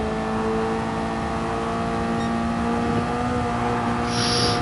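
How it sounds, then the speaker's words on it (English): A steady, loud Toyota racing car engine in the video game Dynamic GT League drones at high revs throughout, with a constant buzzing tone and no speech. "I'm actually still on the brakes when I'm dabbing the throttle there, because it's all about the revs"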